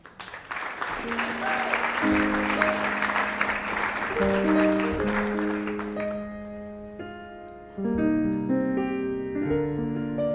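Broad crowd applause at the virtual UUA General Assembly fills the first six seconds, then fades out as sustained organ-like musical tones continue alone to the end.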